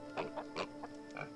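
A pig in the role-playing video game Balrum gives a short run of soft, quiet oinks and grunts, about five brief snorts spaced unevenly over a second and a half.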